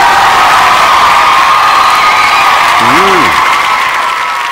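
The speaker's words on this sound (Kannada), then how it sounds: "ತುಂಬಾ ಚೆನ್ನಾಗಿ ಚಪ್ಪಾಳೆ ತಡ್ತೀರಾ ಎಲ್ರು" A large crowd at a public speech claps loudly and steadily, a dense wash of applause with some cheering mixed in throughout.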